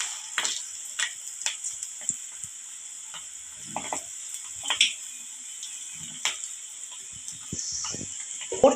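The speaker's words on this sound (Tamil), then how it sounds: "உங்கள் பாத்திரத்தில் எவ்வளோ பிடிக்குமோ அத்தனை உருண்டை சேர்த்து பொரிச்சு எடுத்துக்கோங்க." Dough balls deep-fry in a pan of hot oil with a steady high bubbling sizzle, broken by scattered ticks and soft clatters close by, with no talk.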